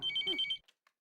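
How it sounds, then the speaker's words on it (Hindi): A telephone's electronic ring trills briefly at moderate volume, then cuts off into near silence with a couple of faint clicks. "फोन की घंटी बज रही है।"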